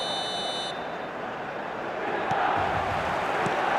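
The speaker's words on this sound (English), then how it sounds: "The stadium is full of noise and energy." Stadium crowd in the eFootball video game, a dense, continuous roar of a full stadium that swells slightly toward the end, with a brief high electronic tone at the start.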